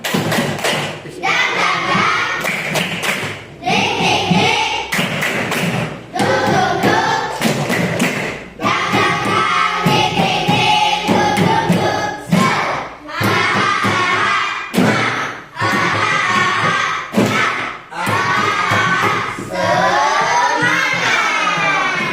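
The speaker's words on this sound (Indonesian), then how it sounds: "Tepuk semangat." Schoolchildren in a class perform the rhythmic 'tepuk semangat' clapping chant, with loud, patterned claps and thumps in repeating phrases that run for over twenty seconds, led by chanted voices with short pauses between sections.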